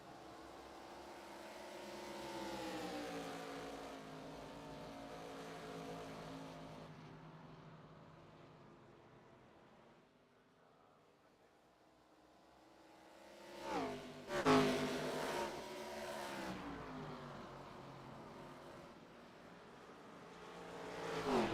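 ARCA Series stock cars racing at Rockingham, engines droning and shifting pitch as packs pass, fading to a lull before a loud close roar sweeps by and builds again.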